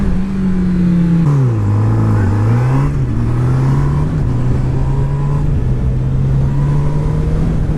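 A 2018 Honda CB1000R motorcycle accelerating in first gear, its engine loud and close, pitch dipping then climbing and holding in a strong steady drone.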